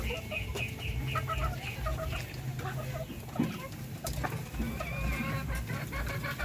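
Darag breeder chickens cluck and chatter in a busy flock while eating a mix of GMP4 feed and cracked corn, with repeated close clucks and occasional louder calls over steady farmyard background.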